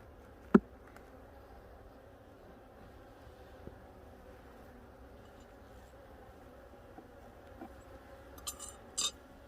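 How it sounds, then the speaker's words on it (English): Honey bees in a hive during a prewinter hive check, a faint low steady hum throughout with a few sharp knocks and handling noises near the end. "Definitely fall bees, that's for sure."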